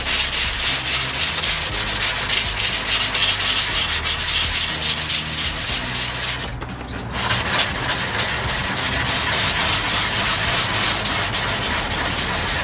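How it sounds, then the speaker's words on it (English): Wet sanding of a cracked plastic car bumper with 180 grit sandpaper makes a loud, close, continuous rhythmic rasp of rapid back-and-forth strokes, easing for a moment midway before resuming just as strongly. "I'm just going to wet sand it because it makes it quicker"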